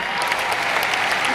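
A crowd at a gospel concert claps: thick, steady applause filling the whole short moment, close and loud, with no break.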